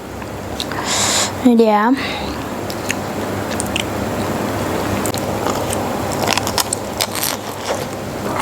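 A crunchy bite into homemade Korean cheese garlic bread makes a short, close crackling crunch early on, then faint chewing follows while a person speaks over it.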